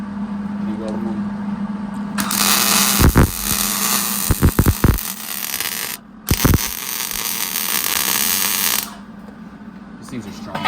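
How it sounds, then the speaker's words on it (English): Steel columns being welded onto a building frame, with a steady harsh crackling hiss lasting several seconds, briefly interrupted, over a low electrical hum and a few sharp pops nearby. "and you weld them on"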